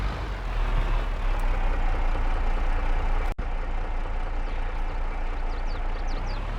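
A truck engine in Farming Simulator 22, a continuous low heavy rumble with a steady drone and a brief dropout partway through, no talking.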